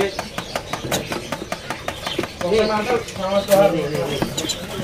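Pigeons cooing at a crowded bird seller's stall, soft repeated coos close by, with sharp chirps, background bustle and people talking nearby.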